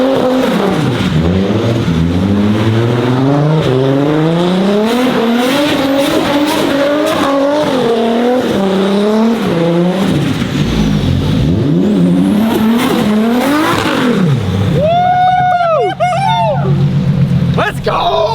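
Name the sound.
Nissan 240 drifting with tire squeal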